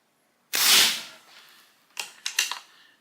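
A Pinty .22 caliber PCP air rifle fires one sharp, loud crack that decays quickly, then a few quick mechanical clicks follow about a second and a half later.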